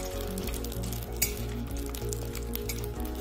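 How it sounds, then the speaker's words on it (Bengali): Chopped chilies sizzle and fry in a little mustard oil in a pan, a steady crackling hiss with an occasional clink of a utensil against the pan. "মরিচ কেটে ভাজার জন্য অল্প করে তেল দিলাম, লাল করে ভেজে নিব মরিচ"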